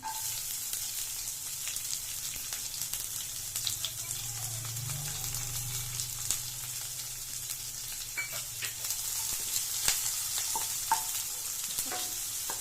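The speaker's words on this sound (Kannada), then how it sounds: "ಈರುಳ್ಳಿ ಚೆನ್ನಾಗಿ ಸಾಫ್ಟಾಗಿ ಗೋಲ್ಡನ್ ಬ್ರೌನ್ ಬರೋವರೆಗೂ ಫ್ರೈ ಮಾಡ್ಕೊಳ್ಳಿ" Medium onion frying in oil in a pan for spicy egg sukka, a continuous soft sizzle with faint stirring clicks throughout.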